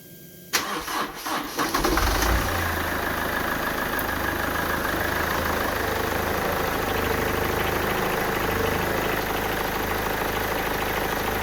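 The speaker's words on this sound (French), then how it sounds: "On va pouvoir faire le premier démarrage pour que le filtre à huile se remplisse." A Mercedes C200 engine cranking and firing up just after an oil and filter change, a brief starter whir followed by a loud, steady idle that settles in and runs on alone.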